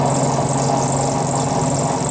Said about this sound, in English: And here we are going in at 4mm depth of cut.